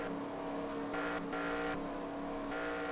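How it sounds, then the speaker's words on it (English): Race cars drive into the pits at North Wilkesboro in a racing video game, with dense overlapping engine drone that rises and falls in a steady rhythm of passing cars, loud throughout. "Got the second group of cars hitting pits."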